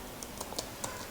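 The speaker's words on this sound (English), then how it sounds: "So here I'll be typing my package name is" Typing on a computer keyboard, a handful of light, quick key clicks at an uneven pace, fairly close and quiet against a soft background hiss, with no speech.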